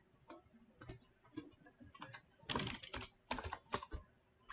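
Keys clatter on a computer keyboard as a command is typed into a CentOS virtual machine, with irregular bursts of clicks that thicken into fast runs toward the end, close and fairly quiet, with no talking.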